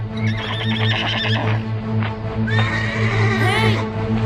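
In a children's cartoon, the Kuda Sembrani horse gives a loud, close whinny over steady background music, with a few hoof clops before it.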